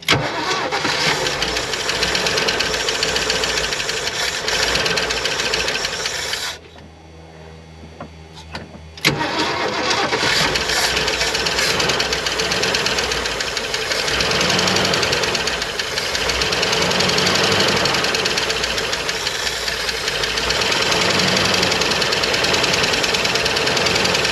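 A V8 Ford Econoline engine, parked in the woods for 36 years, runs loud and close with a steady ticking rumble, briefly cutting out before roaring back and idling on.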